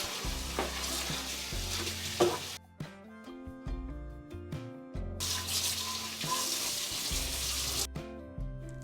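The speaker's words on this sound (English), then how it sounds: "Since it has been soaking for a while, the grease buildup is loosened and I can easily clean it using a sponge" A sponge pad with dish liquid scrubs a soaked, grease-coated air fryer basket in a kitchen, giving rough swishing bursts in two long stretches over steady background music.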